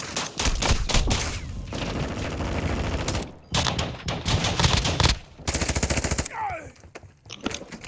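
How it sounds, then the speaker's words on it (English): Automatic gunfire in the Call of Duty DMZ video game, long rapid bursts of close machine-gun fire that break off briefly and resume, with a final scattered volley and some game effects near the end. "You are taking effective fire."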